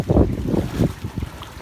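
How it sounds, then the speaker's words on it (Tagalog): Strong wind and heavy rain out at sea aboard a boat, rough gusting roar buffeting the microphone in loud uneven bursts, close and harsh. "Talagang ang lakas ng hangin, lakas ng ulan sa laot."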